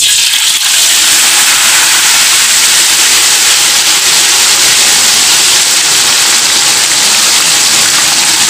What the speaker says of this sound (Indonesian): Kemudian langsung aja kita goreng tahunya nih.